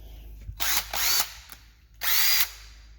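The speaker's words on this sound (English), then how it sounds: "I'm gonna start with the one I had the most experience with, and that is the impact" A Craftsman 20V brushed impact driver runs in two loud hammering bursts of about half a second each, close up, with a shorter buzz between them and no talking.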